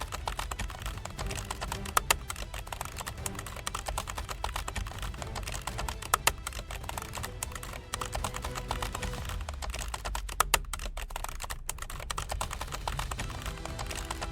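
Rapid, steady typing on a computer keyboard, close and continuous with dense clicking keystrokes and no talk.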